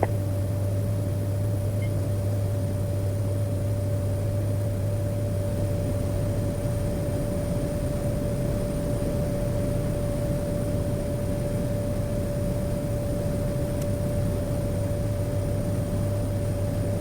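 Steady, loud airplane cabin drone on approach into Juba, South Sudan, after a flight from Rubkona: a constant broadband roar with a sustained engine hum running unbroken throughout, no voices.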